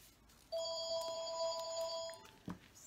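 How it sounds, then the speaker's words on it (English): A phone rings with an incoming call, a bright electronic tone starting half a second in and holding steady for about two seconds before cutting off, followed by a brief handling knock, in a quiet indoor room. "So that was just a phone call."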